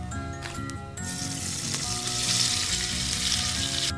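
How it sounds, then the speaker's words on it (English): Breaded eel fries in a pan with a steady, close sizzle that swells slightly louder partway through, over a background of tonal music and no talking. "Fry it up."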